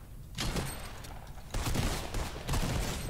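Video game gunfire crackles in dense bursts, loud and close, with rapid rattling shots that swell in several waves.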